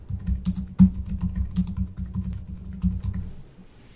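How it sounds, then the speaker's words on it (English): Someone types a search query on a computer keyboard, a close, quick burst of clicking keystrokes with a heavier tap partway through, then a short pause. "Once you type it in, select the Quick Search button to see your results."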